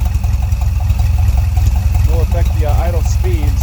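A VW Volksrod engine fitted with Weber IDF carburetors idles with a steady, low, even rumble, and someone talks over it partway through.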